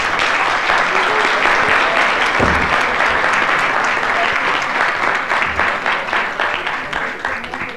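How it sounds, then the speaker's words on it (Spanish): A conference audience at an internet governance forum session in La Paz applauds loudly and steadily for several seconds, a dense, close wash of clapping from a full room. "Las vamos a despedir con un fuerte aplauso."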